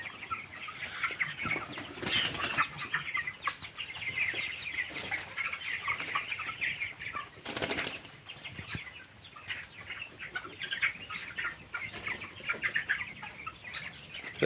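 A flock of 19-day-old broiler chickens on a poultry farm clucks continuously nearby, with occasional bursts of wing flapping rising above the busy chatter and no voices.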